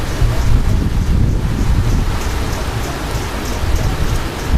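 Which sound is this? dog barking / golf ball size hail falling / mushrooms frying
golf ball size hail falling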